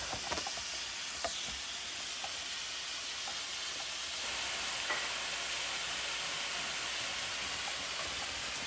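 Onions brown in a pan, giving a faint, even hiss and sizzle that holds steady throughout with a few soft clicks near the start.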